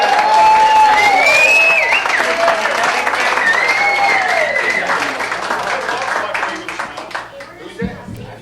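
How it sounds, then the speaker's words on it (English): An audience applauds, hoots and hollers to welcome a cowboy band onto the stage of a comedy show, a loud, sustained burst of clapping with whistle-like hoots riding on top that slowly thins out toward the end. "Give them a nice round of hoot and holler and applause."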